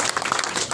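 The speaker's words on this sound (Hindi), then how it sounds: "तालियों से पहले जोरदार स्वागत किया।" Brief burst of applause from a gathered crowd welcoming guests at a local meeting, dense scattered clapping heard close for under a second.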